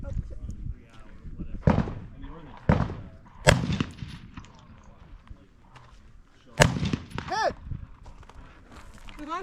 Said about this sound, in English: I have to shoot him again.